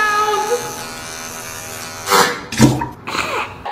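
An electric razor buzzes steadily through a man's shave, a close, continuous hum broken near the end by a few short louder bursts of handling noise.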